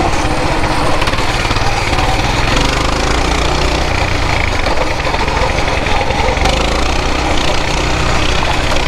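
Coleman BT200X mini bike engine running loud and close, a steady buzzing small-engine drone with a slight waver in pitch and constant rough roar throughout.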